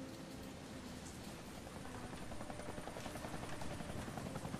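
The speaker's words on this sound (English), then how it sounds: "Oh, there's a helicopter." A helicopter flies overhead in the video game Deadlight, a dense, steady rotor roar with a faint chopping pulse that builds slightly louder toward the end, with no talk.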